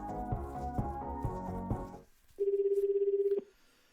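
A telephone in the video game Chaos;Head NoAH gives a single steady electronic ring lasting about a second, following a stretch of game music that cuts off.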